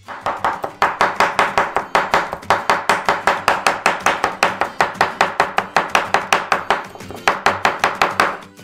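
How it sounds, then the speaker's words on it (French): A knife chops sun-dried tomatoes into fine strips on a board, a steady run of about thirty crisp, close taps with a brief pause near the end. "Sortez les tomates séchées et coupez-les très finement en lanières."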